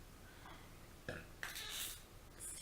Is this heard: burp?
yes